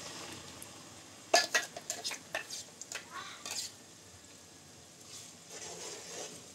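Onion and tomato paste cooks in oil for a chicken biryani, a soft sizzle beneath a burst of quick spoon scrapes and clinks against the pan, then a quieter steady fry.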